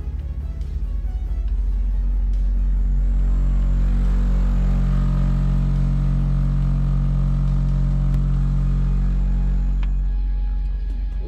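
Heavy bass from a budget Walmart car audio system booms through a closed car cabin with the seat shut, a loud, steady low-end drone with a pulsing kick that fills the space continuously, with no talking.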